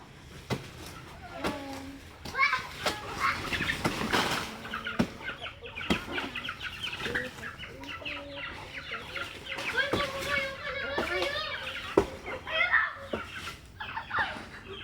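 Several chickens cluck and cackle around a farmyard, mixed with other bird calls and background noise, with people talking intermittently.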